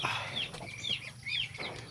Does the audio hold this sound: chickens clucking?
yes